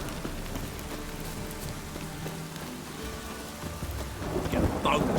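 Steady rain pours in the video game The Witcher 3, with low rumbling thunder rolling underneath and swelling louder near the end.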